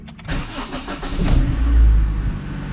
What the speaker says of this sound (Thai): เดี๋ยวผมจะทำการสตาร์ทรถนะครับ